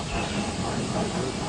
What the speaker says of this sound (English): Percy's driver quickly stopped the train.